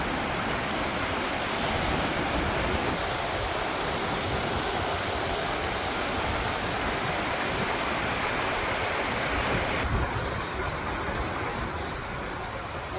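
A mountain stream on Cape Breton Island rushes steadily down into a wilderness spot, its broad, constant roar loud and close for the whole stretch with no talk over it.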